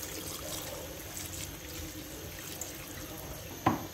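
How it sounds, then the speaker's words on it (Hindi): Water pours into a pot of mutton seasoned with ghee, turmeric, salt and ginger-garlic paste, a soft steady splashing stream heard close and fairly quiet, ending with a couple of brief clinks. "अब इसमें पानी ऐड कर देंगे।"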